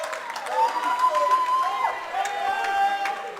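Basketball crowd in Regan Gymnasium at an Albertus Magnus versus Suffolk men's game, cheering and calling out in a steady, moderately loud wash, with whistle-like tones and shouts rising over the noise.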